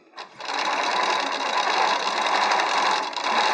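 Qnique quilting sewing machine stitches a short run, its steady rapid mechanical whir continuing loud and close for about three seconds.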